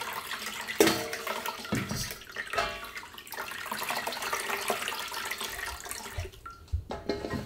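Water is poured over malt (yeotgireum) while making sikhye, a sweet Korean rice drink, giving a close splashing, trickling pour that swells and fades in irregular surges.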